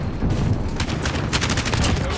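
Rapid bursts of automatic gunfire ring out in the Modern Warfare 2 video game, loud close volleys over a rumbling battle background.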